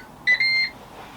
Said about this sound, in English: There we have the beep.